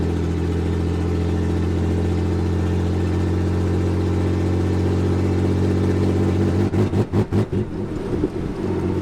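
A pickup truck engine idles with a deep, steady drone, then revs hard against a two-step launch limiter, the note bouncing in quick repeated pulses near the end.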